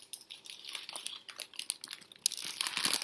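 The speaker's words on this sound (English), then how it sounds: "I'm going to unwrap it right here in front of y'all." A Burger King Impossible Whopper's paper wrapper being unwrapped up close, bright crinkling and rustling in quick bursts with a sharper crackle near the end and no talking.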